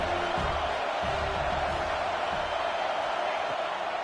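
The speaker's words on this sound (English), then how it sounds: "Man, this crowd really affecting the football game." Stadium crowd roar at a USC versus Colorado college football game, a steady dense wash of cheering voices filling the whole stretch without pause.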